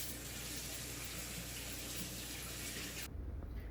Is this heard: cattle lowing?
no